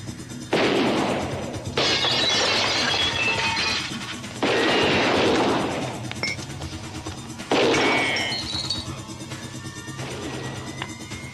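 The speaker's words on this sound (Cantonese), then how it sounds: "好似槍聲嚟嘅喎" Gunfire erupts in a Hong Kong action film scene in four loud, crashing bursts of rapid shots, each lasting a second or two with shattering impacts, separated by short pauses.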